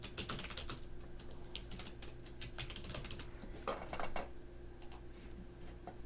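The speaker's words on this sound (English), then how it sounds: "I can hear you typing." Rapid clicking of keys on a computer keyboard, close and quiet, in uneven bursts with brief pauses over a low steady hum.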